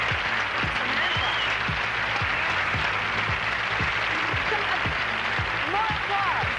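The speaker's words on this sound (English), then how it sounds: "let's hear some energy out there" Studio audience applause on a 1983 television talk show, a steady wash of clapping with scattered cheers and a voice or two heard faintly beneath it.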